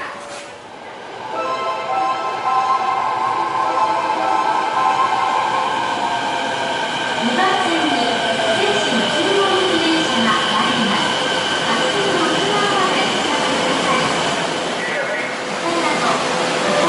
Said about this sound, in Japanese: 仙新妙谷行き電車が参ります。